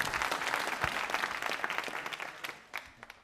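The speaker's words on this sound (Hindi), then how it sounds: "तालियां बजाइए तीनों के लिए आप" Audience applause at a literacy quiz show, a dense round of clapping that thins out near the end into a few scattered individual claps.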